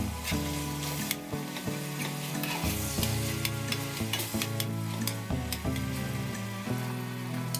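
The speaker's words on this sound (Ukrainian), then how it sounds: "І смажимо його до напівготовності." Minced meat sizzles and crackles steadily as it fries in a hot oiled pan, with soft scraping and stirring sounds, while background music plays underneath.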